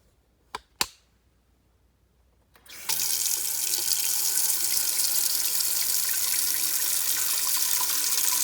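After a couple of sharp clicks from the tap, water gushes from a kitchen faucet into a pot being filled to cover eggs for egg salad, a steady, bright rushing that continues to the end.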